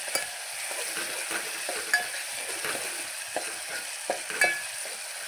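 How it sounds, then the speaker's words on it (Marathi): Green chilies sizzle and fry in hot oil with cumin and garlic while a utEnsil stirs them, giving a steady close crackle broken by scraping clinks against the pan. "आता हिरवी मिरची आपली छान परतून घ्यायची आहे।"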